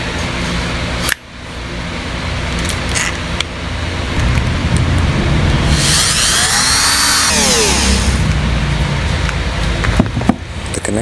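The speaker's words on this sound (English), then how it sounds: "connectors on the module were slightly corroded and had to be cleaned with a Dremel with a fine sanding bit of 800 grit or finer" A Dremel with a fine 800-grit sanding bit cleans corroded connectors on a module from a 2005 Dodge Durango, a loud high whine rising and falling over a steady mechanical hum.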